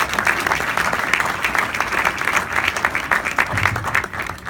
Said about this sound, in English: somebody was getting ready to give a big round of applause for freeholder Cream